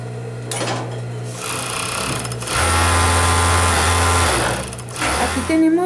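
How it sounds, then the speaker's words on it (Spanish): An overlock serger runs loud and close, stitching the edges of cut fabric pieces for basic women's trousers in bursts, with short pauses and a shift in pitch as the machine speeds up between runs. "vamos a hacerle over en toda esta parte menos esto que iría hacia la cintura"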